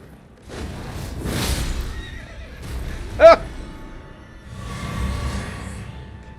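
A horse in the video game Elden Ring gives one short, sharp whinny in the middle, set among soft hoof clip-clops and low, rumbling game ambience.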